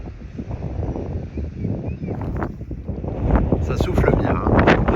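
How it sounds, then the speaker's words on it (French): Strong force 4–5 wind gusts batter the microphone outdoors, a continuous loud rushing roar that swells heavier in the second half. "Ça souffle bien, hein. Surtout 4-5, au fort. Vous entendez les rafales"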